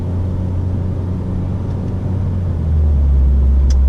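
A car engine hums low and steady up close as gears are changed by hand with paddle shifters in manual mode, the rumble rising slightly in pitch and loudness toward the end.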